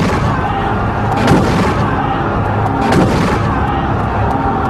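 Cannon fire destroying a hidden ammunition store in a valley, heavy booms and artillery blasts rolling over a dense, continuous rumble, with two sharper bursts standing out, loud and close.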